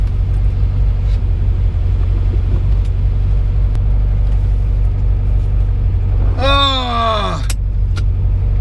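A classic Porsche 912 car drives off, its engine a steady low rumble inside the cabin, then briefly rising in pitch near the end as a short exclamation is voiced.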